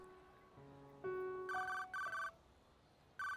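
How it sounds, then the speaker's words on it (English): A cell phone in the video game 428: Shibuya Scramble rings with a melodic electronic ringtone: a rising run of tones, then repeated bright bursts, heard faintly and alone. "Unexpectedly, his cell phone rang."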